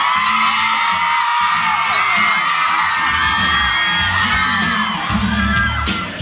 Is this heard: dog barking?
no